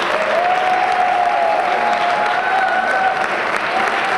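Loud, sustained audience applause at a women's awards ceremony, dense and even throughout, with a whistle or cheer riding above the clapping.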